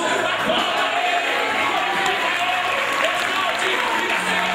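A church congregation at a sermon applauds and cheers continuously, a dense, steady wash of clapping and voices filling the room at fairly loud level, with indistinct shouting mixed in throughout.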